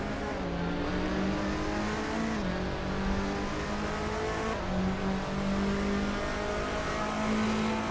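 Race car engine in a Super GT racing video game, a steady high-revving drone that shifts pitch through gear changes with continuous loud engine noise and no talking.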